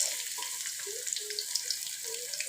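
Chopped onions hit hot oil with tempered fennel seeds, giving a bright, dense crackling sizzle close by. Faint tonal sounds rise and fall beneath it.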